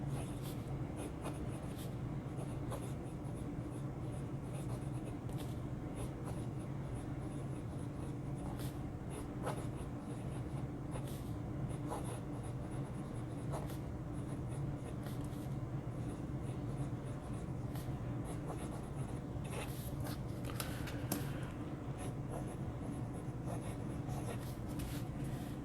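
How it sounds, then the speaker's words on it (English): Writing on paper with a Jinhao 9035 wooden fountain pen fitted with an Architect nib, a faint continuous scratchy nib glide with small strokes and pauses, close and quiet throughout. "Do an actual writing sample here for you."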